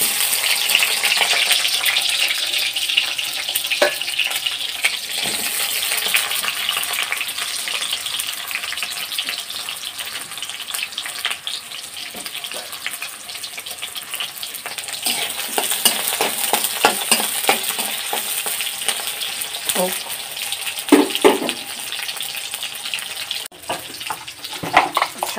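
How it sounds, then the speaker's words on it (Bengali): Onions and green chilies fry steadily in hot oil, giving a loud, continuous sizzle with scattered stirring scrapes and clatters throughout. "তো অলরেডি তেল গরম হয়ে গেছে, আমাকে পেঁয়াজ দিয়ে দিতে হবে।"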